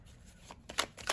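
Tarot cards riffle and slap together in a few quick, soft shuffling bursts close by, quiet and alone.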